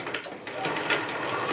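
A domestic sewing machine runs a stitch at the 2.5 length setting with the needle-down mode on, giving a fast, steady mechanical whirr and clatter close by, lasting about a second and a half.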